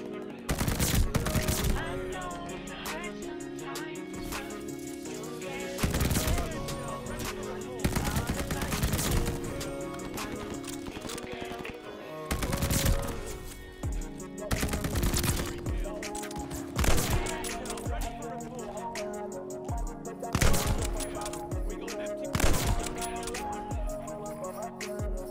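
Video game gunfire rattles in repeated loud bursts and rapid volleys over a dense soundtrack, with excited players talking between shots.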